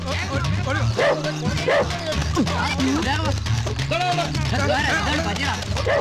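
A dog barks and yips repeatedly nearby while people shout and talk excitedly over it, the barking mixed with whimpers in a noisy, busy scene.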